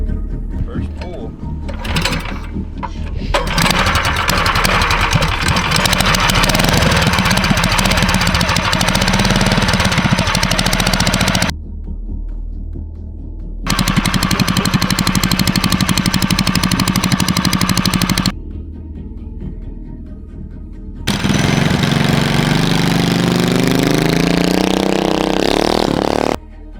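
A homebuilt mini bike's small engine bursts into life after the first pull start, running loud and rough with a rapid buzzing chatter that cuts out twice and restarts, ending on a rising rev.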